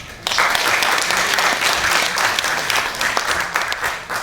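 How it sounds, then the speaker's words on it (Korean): Loud, dense applause from the audience at a memorial ceremony in Gunsan, starting abruptly and continuing steadily without speech. "큰 박수 부탁드립니다"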